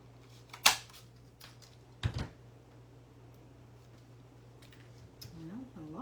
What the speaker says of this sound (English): I wanted to punch out some stars to go on our card